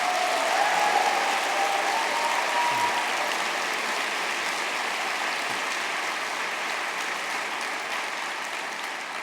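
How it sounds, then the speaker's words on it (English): Sustained, steady applause from an audience at a poetry reading for the T. S. Eliot Prize shortlist, a broad even wash of many hands clapping throughout. "Let's have one more big round of applause for our wonderful signers tonight"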